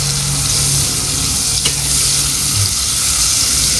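Ginger sautés in a hot pan for pinangat fish, giving a loud, close, continuous sizzle with scraping stir sounds and a brief clatter partway through.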